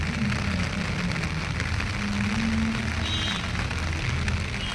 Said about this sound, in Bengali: আর মেন কথা বৃষ্টি হচ্ছে, তো বৃষ্টির কারণের জন্য একটু অসুবিধা হচ্ছে।